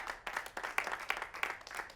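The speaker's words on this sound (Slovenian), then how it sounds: "A slišite, kako ploskajo?" An audience at a stand-up comedy show claps together, a brief dense patter of hands with a loose rhythmic pulse, somewhat distant and moderately loud.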